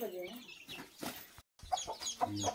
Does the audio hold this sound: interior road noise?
no